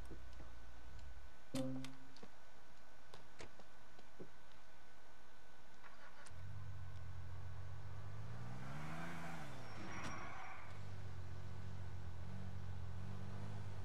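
A car in the video game GTA 4 starts up and drives, with scattered clicks and ticks early on, then a low engine hum that swells and bends in pitch midway, faint and fairly distant, with no talking.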